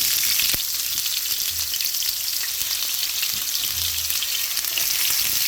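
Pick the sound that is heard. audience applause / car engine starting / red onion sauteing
red onion sauteing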